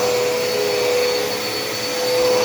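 A Dirt Devil Endura Reach stick vacuum runs steadily and close by, a constant high whine with a strong fixed tone and broadband airflow hiss, no voices over it.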